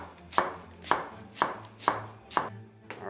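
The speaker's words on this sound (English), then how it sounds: "now what we're gonna do is we're gonna slice the onion" A knife slices through an onion on a cutting board, making five crisp, evenly spaced chops about half a second apart. The chopping is close and clear, with no talking.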